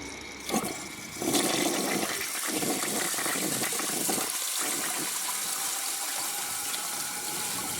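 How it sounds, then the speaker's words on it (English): A 1974 American Standard Cadet toilet flushes with a dish towel and grocery bag in the bowl, a loud steady rush of water that begins after a short thump near the start and carries on alone without easing. "So let's give it a flush and see how it does on a dish towel and a grocery bag."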